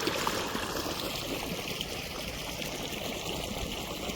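Water pours steadily from an irrigation pump motor into a field, a continuous rushing, gurgling flow heard up close without any talking.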